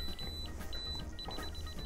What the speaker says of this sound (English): you're gonna listen to the beeping, and what you wanna do is follow the beeping as it gets faster.